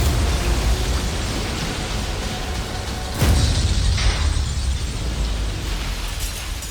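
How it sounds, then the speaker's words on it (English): A massive crane collapsing into a stadium below gives a sustained, loud roaring rumble with a sharp crashing burst midway, continuing as heavy noise. "The massive crane started to fall."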